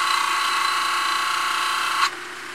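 A homemade DIY glass grinder runs with a steady high motor whine and a faint grinding hum, close and fairly loud, and then drops sharply in pitch and level near the end as it winds down.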